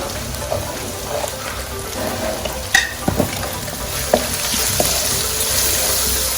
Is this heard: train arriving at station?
no